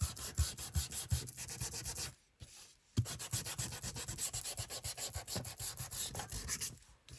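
Sandpaper rubs in quick back-and-forth strokes around the edge of a paper junk journal pocket, close and steady with a brief pause midway, no talk.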